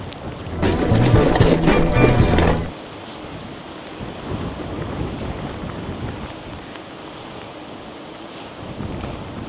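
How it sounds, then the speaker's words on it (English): Rain starting to fall outdoors in a national park area, with a loud rumbling burst like thunder for the first couple of seconds, then a quieter continuous patter of rain. "It started to rain."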